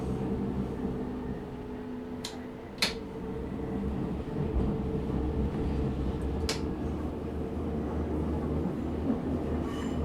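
Subway train running in the game Subway Sim 2, a steady low rumble and hum throughout with a few sharp clanks and squeals near the start and midway, no voices.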